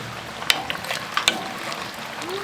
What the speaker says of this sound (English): Roer jou potjie.